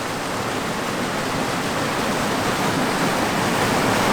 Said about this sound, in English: I think the water's moving so fast